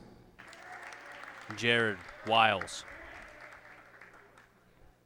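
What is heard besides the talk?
applause for senior athletes at high school senior night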